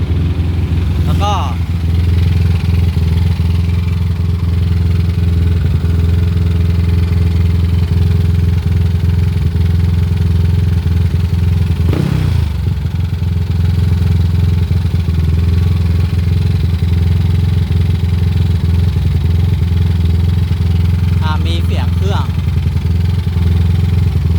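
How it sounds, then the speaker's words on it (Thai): A Yamaha Aerox scooter engine stuck at a high idle drones loudly and steadily up close in a repair shop, with a few brief clanks over the constant hum. "เนี่ย รอบลิ้นเร่งค้าง นี่นะ เนี่ย ไม่เบาด้วย"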